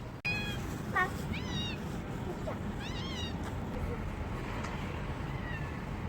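Several short, high meows ring out from cats being fed amid steady background noise and faint voices, some calls coming in quick pairs.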